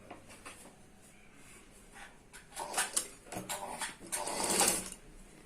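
A sewing machine stitches a cord alongside a fancy blouse neckline. The machine whirs faintly at first, then gives louder bursts of close, rapid stitching toward the end.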